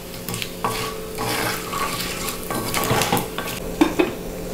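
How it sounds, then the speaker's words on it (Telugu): Coriander seeds, cumin, urad dal and tamarind dry-roasting in a pan, with a steady sizzle under repeated scraping and stirring of a spoon against the metal. "ధనియాలు, హాఫ్ టీ స్పూన్ జీలకర్ర, 1 టీ స్పూన్ మినప్పప్పు, 10 గ్రామ్స్ చింతపండు వేసి కొద్దిగా వేయించాలి లైట్గా"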